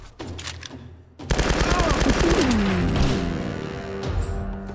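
Rapid automatic gunfire from enemies in the Tomb Raider video game, bursting in loud and close after a brief quieter lead-in, then rattling on continuously with impacts and faint voices underneath.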